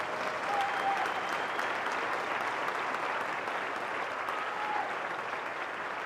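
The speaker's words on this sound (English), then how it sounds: "Can we give these wonderful people a huge round of applause for their excellence?" Audience applause at a high school senior award night honoring students, a dense steady wash of clapping that holds at an even level for the full six seconds with no voices.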